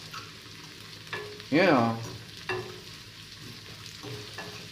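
Onions and seasoning frying in a pan for smoked herring, a low sizzle with a few utensil knocks, while someone talks briefly over it.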